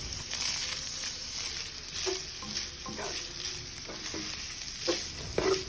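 Sliced chicken breast sizzles in a hot pan for a pasta pesto dish, a steady close fry broken by clattering stirs and scrapes of a utensil.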